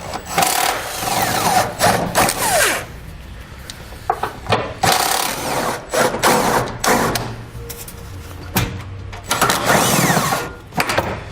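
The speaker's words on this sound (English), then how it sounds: "I'm going to be using an 18mm socket to pull these out." A socket tool works 18mm bolts out of a trailer hitch on a 2019 Dodge Grand Caravan, giving repeated bursts of ratcheting and metallic grinding separated by short pauses, fairly close and loud.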